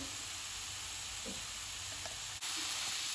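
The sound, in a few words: beef frying in a pan after adding meat and flour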